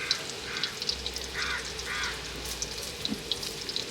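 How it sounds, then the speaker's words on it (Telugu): Water being poured into a bowl in a home kitchen while cooking, soft splashing and gurgling in short bursts, faint and close, with light clinks in between. "ఆ ఈ నీళ్ళు కొన్ని ఒక దాంట్లో పోసుకున్నాం."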